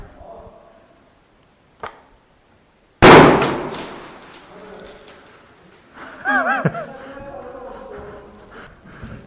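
A CAW airsoft gun fires a single sharp, loud crack that decays quickly, preceded by a faint click and followed by low background noise and brief voice-like sounds.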